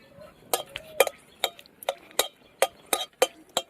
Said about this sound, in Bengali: লঙ্কা ভাজা হয়ে গেছে।